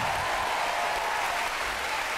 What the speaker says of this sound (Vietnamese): Vỗ tay thật lớn dành cho Phạm Lệch.